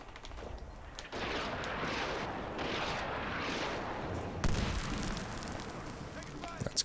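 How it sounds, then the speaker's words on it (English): Airstrike blasts in the Xbox 360 shooter Medal of Honor: Warfighter, a sustained rumbling barrage of explosions with a fresh heavy impact midway, loud and continuous beneath a player's voice. "That's clearly somebody dropping an airstrike on the thing."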